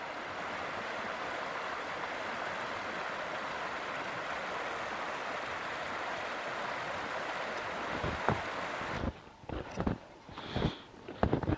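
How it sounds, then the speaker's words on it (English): Water of a creek flowing into a reservoir in the snowy Bitterroot backcountry in winter, a steady broadband rush that runs continuously, then gives way near the end to a few close bumps and crunching footsteps. "the creek flowing into the reservoir."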